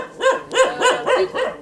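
A small dog barks five times in quick, evenly spaced succession, loud, close and high-pitched, with no other sound around it.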